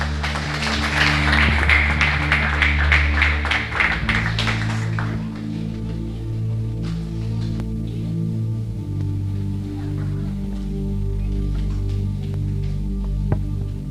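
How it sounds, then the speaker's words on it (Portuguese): A church congregation claps at an evening worship service, a dense burst of applause over sustained keyboard chords that fades after a few seconds, leaving the music playing on alone. "Receba com as palmas que louvam o nome do Senhor."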